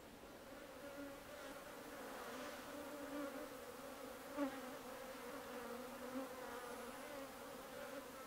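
Bees buzz in a steady, continuous drone that holds evenly throughout, faint and somewhat distant, with no voices.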